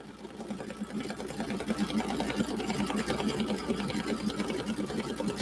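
Embroidery machine stitching Mylar quilt blocks, a steady rapid needle chatter running continuously at moderate level from start to finish.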